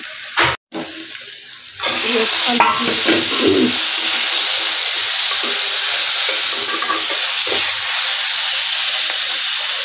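Chopped onion and green chillies hitting a hot pan, a loud steady hiss of frying that starts abruptly and carries on evenly, close and uninterrupted.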